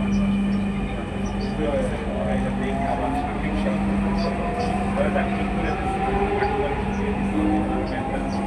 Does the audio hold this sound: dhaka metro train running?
yes